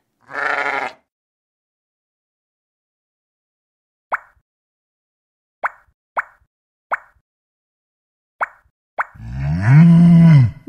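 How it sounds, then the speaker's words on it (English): A single sheep bleat from a preschool puzzle app rings out, followed by a string of sharp little plops and another loud bleat at the end, with quiet gaps between. "Sheep."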